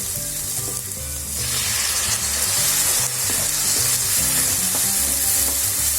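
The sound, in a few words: onions and tomatoes sautéing and being stirred in pan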